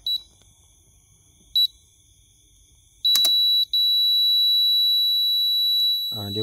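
A repaired electronic device gives two short high beeps, then one long steady beep that holds to the end, with a brief gap and a low thump at the close.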